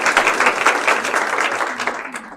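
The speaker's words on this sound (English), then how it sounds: "join me in giving her a round of applause" An audience claps for a speaker in a short burst of applause with distinct individual claps, fading out toward the end.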